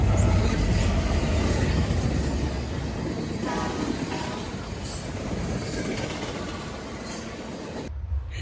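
A CSX M560 freight train led by an SD70 locomotive rushes past eastbound at speed, a broad, rumbling roar with rhythmic wheel clatter that stays loud, then cuts off abruptly.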